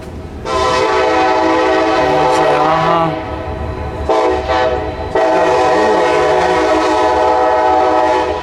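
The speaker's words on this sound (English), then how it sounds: "They got great timing for these trains" A loud train rumbles past nearby, its steady roar broken by two long horn blasts and clattering wheels.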